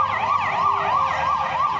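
A police car siren wails in a rapid, repeating up-and-down sweep, steady and fairly loud, on a street in Brussels where a shooting occurred, with faint traffic beneath.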